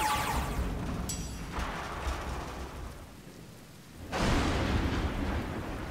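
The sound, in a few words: thunder in the video game Aground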